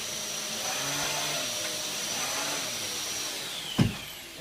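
A Dyson DC54 vacuum cleaner fitted with a turbo head runs with a steady loud whine and hum close by, ending with a brief bump near the end.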